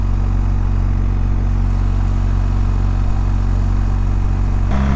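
A BMW 1300GS motorcycle engine holds a steady mid-pitched drone in first gear at around 4,000 rpm and 40 km/h, loud and continuous, with a brief shift in tone near the end.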